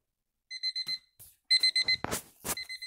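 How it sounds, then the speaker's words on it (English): A video game alarm clock rings in two bursts of bright, repeating electronic beeps, with brief rustling and soft thumps between and over the second burst, like a character stirring in bed. "Oh, the alarm clock."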